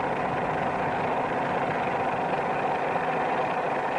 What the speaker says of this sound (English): notice that the sound of the engine changes rather slowly